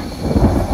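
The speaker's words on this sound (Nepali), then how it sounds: "आकाश पनि गड्याङ गुडुङ गरेको छ" A deep, low rumble of thunder rolls through the short clip, swelling slightly toward the middle, with no voices.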